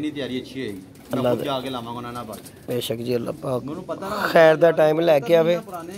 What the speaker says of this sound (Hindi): ये जो अंदर कबूतर है ना ये उड़ा के रोके हुए हैं, ये नए परिंद हुए हैं